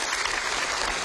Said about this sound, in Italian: Facciamogli un applauso